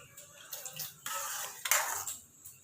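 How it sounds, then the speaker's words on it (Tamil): Water poured into a tomato kurma in a cooking pan, with brief splashing bursts and a few light clinks of a pot, fairly quiet and close. "கொஞ்சம் தண்ணி ஊற்றணும்."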